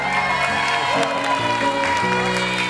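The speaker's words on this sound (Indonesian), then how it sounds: "Boleh berikan tepuk tangan." Studio audience applause and cheering on a dating game show fill the space, steady and loud over music, with scattered whoops.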